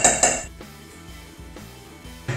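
Eggs, butter and sweetener for keto cookies are stirred in a bowl, with clinking utensil strikes at the start and end and softer rhythmic scraping under faint background music.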